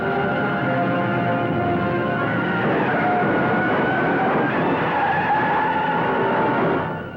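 A race car speeds along and skids, producing a loud, continuous roar of engine and squealing tires that swells and holds before cutting off at the end.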